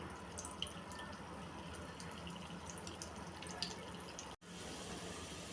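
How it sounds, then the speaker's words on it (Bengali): Raw banana kebabs dusted with rice flour sizzle in hot oil, a steady dense crackle and hiss close up that runs on with no talk and drops out for an instant near the end. "এবার এগুলো তেলে লাল লাল করে ভেজে নিব তো বাজার জন্য গরম তেলে দিয়ে দিলাম"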